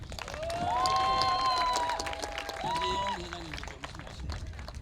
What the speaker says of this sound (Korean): 이럴 때 박수 한번 주시죠.